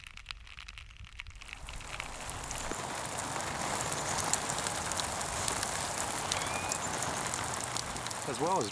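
Water sprayed onto budget backpacks during a water test, a steady dense hiss like heavy rain pattering on fabric that starts after a brief quieter moment and continues throughout.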